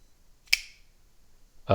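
A single sharp metallic snap, crisp and close, as a WE Knives Scoppio folding knife flicks open and locks, followed by a quiet pause and then another abrupt click-like clatter at the end.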